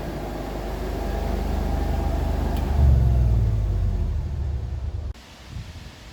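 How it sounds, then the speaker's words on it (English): A quiet onboard generator in a 1950 Dodge Route Van runs with a steady low hum and rumble, swelling briefly midway before cutting off near the end. "start up the generator"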